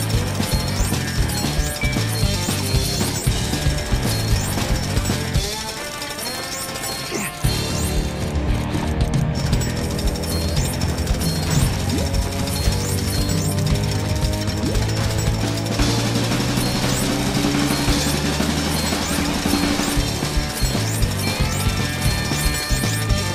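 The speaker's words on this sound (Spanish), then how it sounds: "Esto es taladrar, así que vamos al lío." Jackhammer drilling in the video game LEGO City Undercover, a loud sustained rattling roar with metallic clinks and crunching debris that runs almost continuously for over twenty seconds, with a brief drop partway through.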